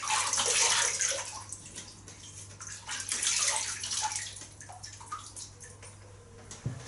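Running water splashes and drips steadily, close by, with gurgling and small sloshes as it rinses over a surface.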